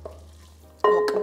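Meat slowly warming on a flat frying pan: a quiet pause, then an abrupt clatter of the pan and stirring with a light sizzle close by, and no talking.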